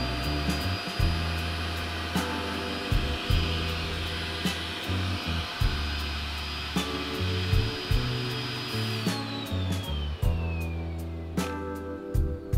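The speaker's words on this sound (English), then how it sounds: "you just slam it down and it vacuforms around it" A Mayku Formbox vacuum former pulling a heated plastic sheet down around a mold gives a loud, steady whining roar with a few brief clicks and bumps and a falling tone near the end. No one speaks.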